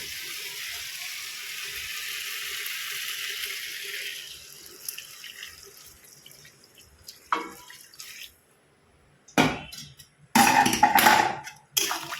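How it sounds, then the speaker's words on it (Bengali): Hot water pours into a pan of fish curry, a steady splashing stream for several seconds that tapers off, followed by a pause and a few short, louder splashes. "ওই গরম জলটা আমি এর মধ্যে ঢেলে দেবো"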